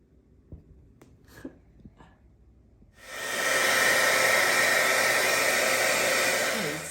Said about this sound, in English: I'll just probably use a hairdryer quickly to dry mine